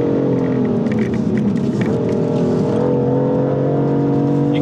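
BMW M4 with a twin-turbo inline six-cylinder engine pulls under throttle, a steady close engine drone with layered harmonics rising and shifting in pitch for nearly five seconds, loud and continuous with no talking.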